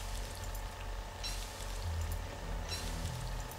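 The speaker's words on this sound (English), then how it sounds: "Rain, go away." Rain in the video game Don't Starve Together, a soft, steady patter of falling drops over a low rumble, with brief brighter bursts of splashing.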